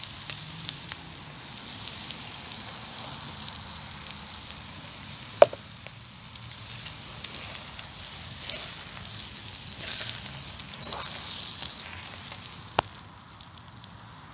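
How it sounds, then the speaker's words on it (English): Ham frying in a pan over an outdoor campfire on a foggy winter morning as eggs go in, giving a steady soft sizzle with faint crackles and an occasional clink throughout. "Well, ham's in, so now I'm going to add the eggs."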